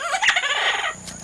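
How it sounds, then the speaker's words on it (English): Loud, harsh squawking call of a scarlet macaw, a raucous bird cry lasting about a second with bright, grating tones. "Scarlet macaw."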